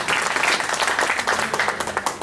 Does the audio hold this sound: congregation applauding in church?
yes